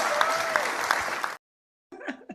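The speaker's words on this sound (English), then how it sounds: "do you see how minimal round of applause there is in that video?" Sparse, thin applause from a football crowd, steady clapping for about a second and a half, then silence and a brief burst of muffled sound.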